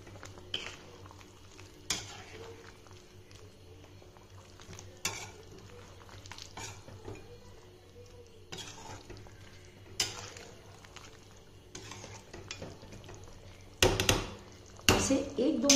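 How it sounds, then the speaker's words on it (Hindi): Fried onions are stirred in a pan while cooking a Hyderabadi chicken gravy, giving soft sizzling under repeated scraping and clinking of a spoon against the pan, with a voice talking over it. "अच्छे से चला लें इसे।"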